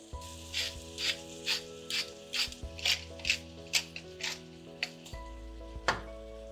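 A pepper mill grinds pepper over a pan of cream sauce in a French kitchen, giving about a dozen short, even ratcheting bursts close up over a steady low hum, with no talking.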